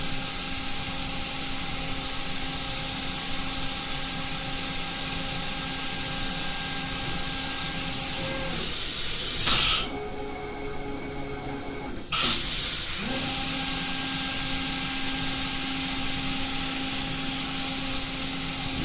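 A CNC machine in a machine shop reams holes in a long part held between a fourth axis and tailstock, with a steady high spindle whine and hiss that cuts out for a few seconds midway before resuming.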